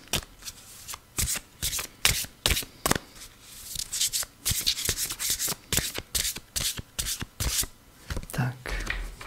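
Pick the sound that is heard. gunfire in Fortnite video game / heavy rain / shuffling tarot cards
shuffling tarot cards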